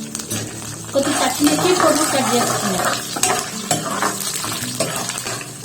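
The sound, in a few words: stirring lentils, peanuts and green chilies in pan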